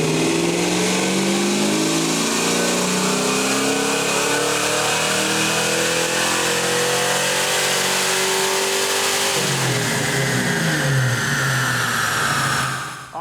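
A 1994 Ford Mustang Cobra with a swapped 5.8L V8 roars loudly on a dyno, its engine note climbing steadily through a long full-throttle pull, then dropping and rising again before cutting off at the end.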